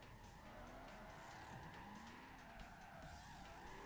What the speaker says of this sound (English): Online drifting is insane.